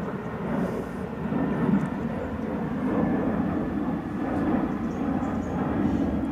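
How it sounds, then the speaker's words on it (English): Airplane passing overhead at a national park in the Australian bush, a steady broadband engine roar that swells and holds for several seconds with no voices. "It's another plane."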